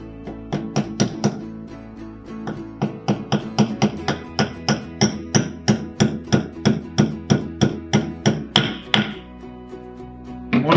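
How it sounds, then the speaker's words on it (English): A hammer taps pins into the two small holes at the top of a dual fire insert, a long run of steady, evenly spaced light metallic knocks close by, with no talking. "Just gently tap them in because you do not want to bend the pins."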